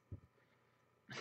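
A sneeze bursts out briefly at the end after a faint throaty sound, quiet and close, in an otherwise hushed room.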